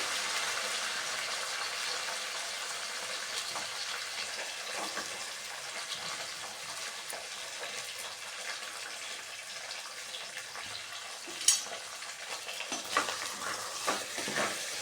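Small shallots, garlic and curry leaves fry in a pan for Trichy-style kara kuzhambu, giving a steady, fairly quiet hiss of sizzling oil with faint stirring. A brief clink comes near the end.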